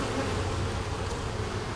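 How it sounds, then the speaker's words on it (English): Honey bees foraging around a hive box make a steady, dense buzzing hum, close and continuous with no break, no voices over it. "there's still a lot of bees out foraging"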